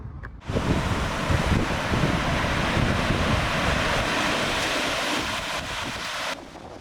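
Surf breaking and rolling at Hokitika beach on New Zealand's west coast, a steady close roar of waves mixed with gusting wind buffeting the microphone, continuous for several seconds with no voices.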